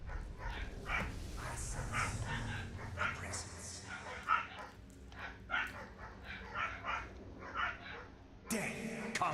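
Neighbors' dogs bark repeatedly in short, uneven bursts at a moderate distance, mixed with ongoing voices and background sound throughout.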